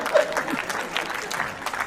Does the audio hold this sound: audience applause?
yes